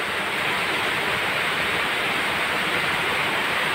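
Strong floodwater rushing along a street after heavy rain where the drains are blocked, a loud, steady broadband roar with no pauses.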